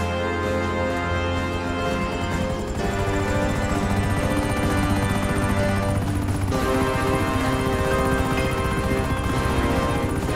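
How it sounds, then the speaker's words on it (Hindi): Helicopter flying over the sea in the video game GTA, a loud, steady rotor-and-engine drone that fills the whole stretch without letting up. "और फिर सारे लोग हेलीकॉप्टर पर बैठकर डगन आइलैंड की तरफ निकल जाते हैं।"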